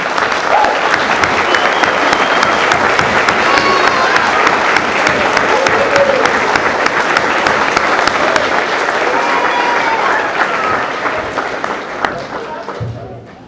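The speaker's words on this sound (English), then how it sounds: "please take a round of applause from the audience" A crowd gives dense, sustained applause for current staff members at Garfield Elementary School's 100th anniversary celebration in Cedar Rapids. The clapping holds steady for about twelve seconds, then thins and fades out.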